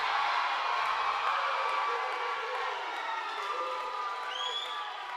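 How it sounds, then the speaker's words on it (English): A basketball gym crowd roars and cheers in reaction to a play, a sustained broad wash of voices that eases slightly toward the end, with a faint whistle-like tone near the close. "The crowd loved it too, I think, or hated it."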